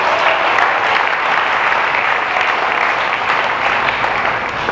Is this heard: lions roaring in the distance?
no